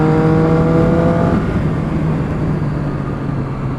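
A Triumph Street Triple 675 motorcycle engine revs loud and close while riding, its tone rising as it accelerates and then settling into a strong steady drone with wind rush.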